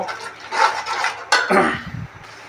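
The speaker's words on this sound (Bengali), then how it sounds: "এখন আমি এটা কষিয়ে নেব।" Red lentils being stir-fried in a pan while cooking Malabar spinach, with brief scraping and clanking of a spoon against the metal pan followed by a short bubbling sizzle.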